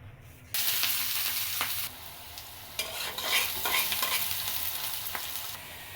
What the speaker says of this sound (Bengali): কড়াইতে এখন দিয়ে দিব পেঁয়াজ আর কাঁচামরিচ কেটে রেখেছিলাম